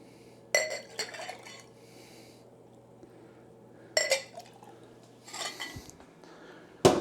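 Glassware and brewing equipment clink in a few separate bursts, close and fairly quiet, while a gravity sample of beer wort is taken during home brewing from a kit, with a low steady hum underneath.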